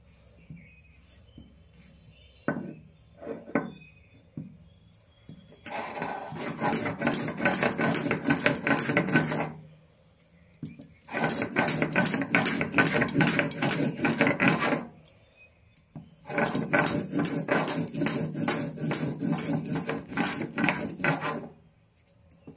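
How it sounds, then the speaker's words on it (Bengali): Black cumin and garlic ground finely on a grinding stone, the stone rasping back and forth in three long bursts of steady rhythmic scraping separated by short pauses, fairly loud and close, with no talk. "আমি দুটোই একসঙ্গে বেটে নিলাম, আবার একবার মিহি করে বেটে নেব"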